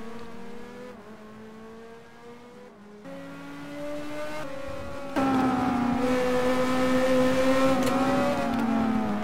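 Onboard race car engine in a sim racing game at Zandvoort, revving loud and steady with rising and falling harmonic tones as it shifts through gears, growing louder and more intense partway through, with no talk.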